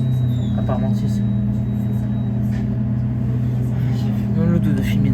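Interior of a moving line 13 city bus, a constant low engine rumble and drone throughout, with passengers talking nearby over the hum.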